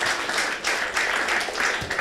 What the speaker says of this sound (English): That always deserves a round of applause